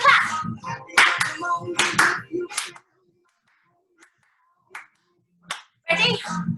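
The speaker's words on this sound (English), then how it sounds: "We're just going to clap." Children's story-time group clapping hands in bursts, close and sharp, trailing off into a few scattered single claps after a pause, mixed with talking.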